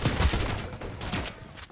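Rapid gunfire in a Call of Duty match, a quick string of sharp shots at moderate loudness with no talk.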